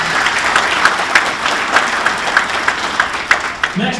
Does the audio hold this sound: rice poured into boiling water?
no